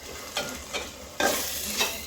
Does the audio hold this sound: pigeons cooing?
no